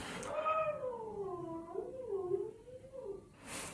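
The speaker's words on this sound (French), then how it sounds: "En train de jouer avec mon chat." A pet cat meows while playing, giving one drawn-out, wavering meow that bends up and down in pitch, close and fairly loud, followed by a short rustle at the end.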